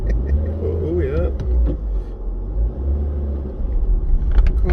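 Car engine laboring on a hill drive, a low uneven rumble that dips and surges with strain, with someone talking over it in the cabin.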